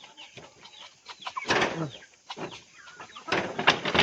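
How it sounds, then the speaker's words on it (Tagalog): Backyard chickens being fed make repeated clucks and squawks in irregular bursts, fairly close, with louder flurries midway and at the end. "mga manok natin, ginapakain natin araw-araw"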